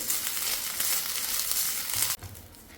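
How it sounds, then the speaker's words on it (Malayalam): Grated coconut sautéed in a pan over low to medium flame makes a crackling sizzle with soft stirring rustles, then cuts off abruptly near the end, leaving a quiet low thump or two. "ഇനി ജസ്റ്റ് ഒന്ന് ലോ ടു മീഡിയം ഫ്ലെയിമിൽ വെച്ചിട്ടൊന്ന് വഴറ്റിയെടുക്കാം"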